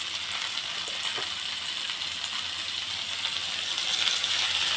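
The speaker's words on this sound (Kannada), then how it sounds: "ಸೊ ಅಷ್ಟನ್ನು ಹಾಕಿ ಚೆನ್ನಾಗಿ ಫ್ರೈ ಮಾಡ್ಕೊಳ್ಳಿದ್ದು." Chopped dill leaves fry in a pan with a steady, soft sizzle that holds even throughout, with faint stirring clinks mixed in.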